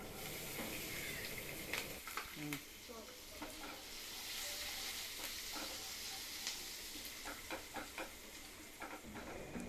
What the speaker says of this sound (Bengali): রসুন কুচি হালকা বাদামি করে ভেজে নেব